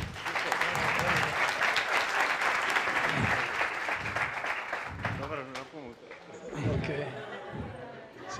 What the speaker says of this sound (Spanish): Le presento al Chicho, un aplauso para él.